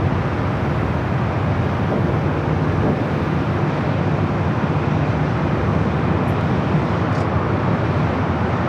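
An airliner departing Los Angeles International Airport for Honolulu, its jet engines producing a broad, continuous roar that stays steady and moderately loud from a distance, with no voices over it.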